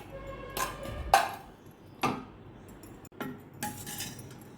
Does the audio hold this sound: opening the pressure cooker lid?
yes